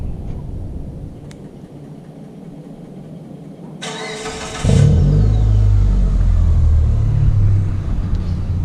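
A modified 2008 Mitsubishi Eclipse with a 4G engine is started remotely: a faint background hum, then the starter cranks briefly before the engine catches and settles into a loud, steady idle rumble close by.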